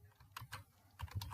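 Keys clatter on a computer keyboard as code is typed, two quick bursts of soft close clicks separated by a brief pause, faint and with no voices.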